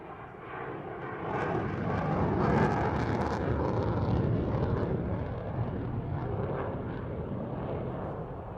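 The Solo Turk display jet climbs hard at the RAF Waddington airshow, a loud, broad engine roar that swells within the first two seconds and holds steady overhead without talk.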